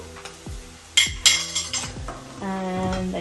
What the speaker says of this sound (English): and then you just give that a mix